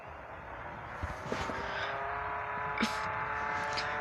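A car engine hums steadily as it drives in the Roblox game Jailbreak, the car flooded, with a few faint clunks and whooshes over the continuous moderate drone.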